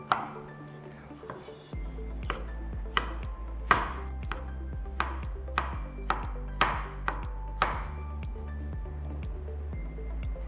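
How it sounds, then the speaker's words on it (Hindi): A knife dices tomatoes on a cutting board in about a dozen crisp, close chops at an uneven, steady pace, with a faint low hum underneath. "बाकी जो टमाटर बचा उसे मोटा मोटा यूं डाइस कर लेना है।"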